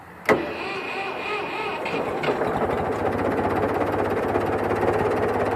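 A 1966 Ford 4400 industrial tractor engine, found sitting in a field, catches with a sharp bang, then settles into a steady, loud, close running drone with an even mechanical rumble.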